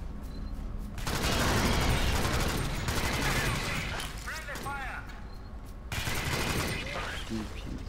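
Sustained gunfire in the co-op shooter Reactive Drop: Alien Swarm, dense rapid automatic fire running for several seconds, briefly easing and then resuming, mixed with mechanical game effects, while people talk over it.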